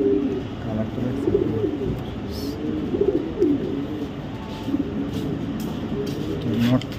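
Racer pigeons coo steadily in a low, soft, repeated rhythm, several birds close by, with a faint hum of background activity underneath and no clear speech.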